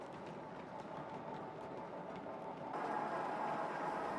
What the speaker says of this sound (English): Churchwood Mogul number 4318 passes with a breakdown train.